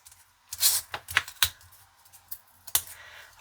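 Backing is peeled off old adhesive tape for card-making, giving a few short, crackly tearing bursts and small clicks close by, separated by quiet gaps.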